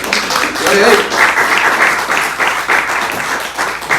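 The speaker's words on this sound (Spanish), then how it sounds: "Denle un fuerte aplauso al Padre, amén." A church congregation claps for the Father, a short rippling round of applause with uneven swells, mixed with voices calling out over it.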